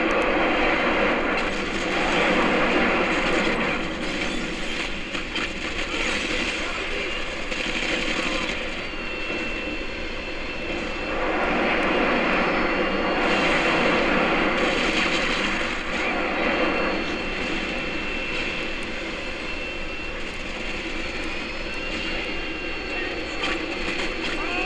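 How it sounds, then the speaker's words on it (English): Harrier jet roaring overhead in Modern Warfare 2 multiplayer, a loud sustained jet engine rumble and whine that swells and fades in waves, with game noise and a voice over it. "Enemy Harrier incoming."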